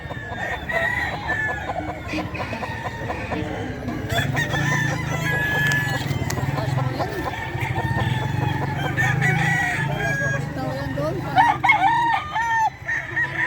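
Kelso gamefowl roosters at the Bocaue pet market crow repeatedly amid clucking from other fowl, in a busy, echoing market setting, with people talking in the background.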